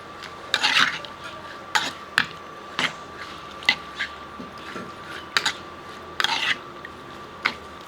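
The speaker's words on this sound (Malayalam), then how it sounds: "ഇനി ഇതൊന്ന് ഇളക്കി എല്ലാം കൂടെ നന്നായിട്ടൊന്ന് മിക്സ് ചെയ്ത് വയ്ക്കുക." Jackfruit seeds and prawns being mixed with coconut pieces in a bowl, with soft wet squishes and light clinks of a utensil against the dish, repeated in short irregular bursts in a quiet kitchen.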